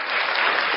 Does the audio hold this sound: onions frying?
no